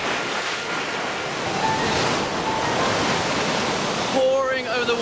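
Tsunami waves pour over a wall after an earthquake, making a loud, steady roar of rushing water with wind noise on the microphone. The surge continues without a break, with a few faint tonal sounds near the end.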